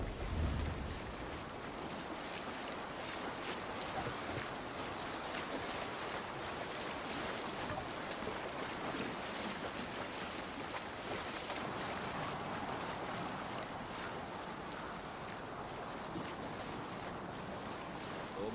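A Viking longship is rowed at sea in Assassin's Creed Valhalla, heard as a faint, steady wash of waves and wind with soft water movement throughout and no talking.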